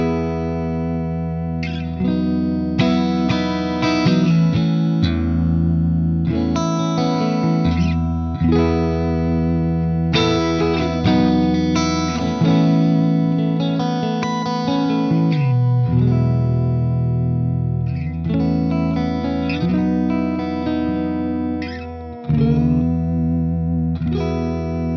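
A clean Suhr SL68 MkII electric guitar plays chords and single notes through a warm vintage-style amp, ringing with rich sustain and light reverb, steady and prominent with no voices.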